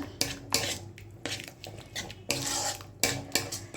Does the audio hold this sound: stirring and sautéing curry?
yes